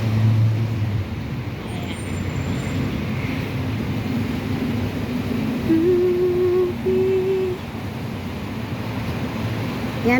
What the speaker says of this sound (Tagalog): Yan, traffic po talaga.